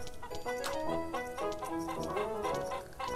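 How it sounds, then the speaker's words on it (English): Chicken clucking in Dude Simulator 3: repeated nasal clucks and squawks in an irregular rhythm, fairly close and clear over a few seconds. "I hear a chicken."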